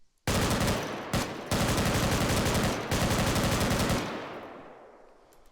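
Automatic gunfire rattles in ARMA 3 in three long, rapid bursts separated by brief pauses, loud and close. It ends with an echoing tail fading away, and no one speaks.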